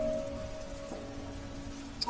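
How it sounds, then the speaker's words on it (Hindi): Light, steady rain falls on a cool March morning outside a roadside tea stall, a soft continuous patter and hiss with a faint tonal hum underneath, no voices. "सुबह से ही हल्की हल्की बारिश लगातार हो रही है"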